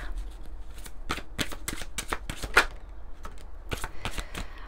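Oracle cards are shuffled close by, producing quick, uneven riffling and slapping bursts over a quiet room.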